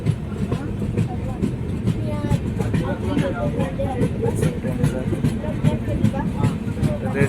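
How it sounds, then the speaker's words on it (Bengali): A moving train rumbles steadily with rapid rhythmic clatter from the wheels, loud and close as if heard from on board, with a tanker train mentioned nearby. "আমাদের ট্রেন স্পিডে ধরে রয়েছে"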